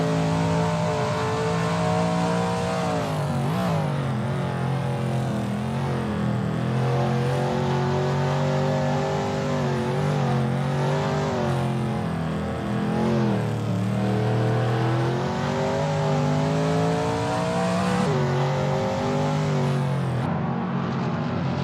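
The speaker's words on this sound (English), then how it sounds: "That ASRL Shelby Mustang GT350R looks good driving through turn 5." Shelby Mustang GT350R racing engine in a racing video game at Willow Springs, a loud sustained V8 roar with rising and falling revs through gear changes, continuous and close for the whole run.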